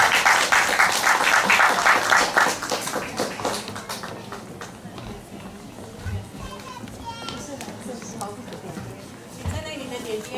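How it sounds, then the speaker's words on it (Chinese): Audience applause at a kindergarten graduation ceremony, a dense burst of clapping that is loudest at the start and then thins out, with chatter and children's voices continuing underneath. "现在我们以最热烈的掌声来欢迎他们上台"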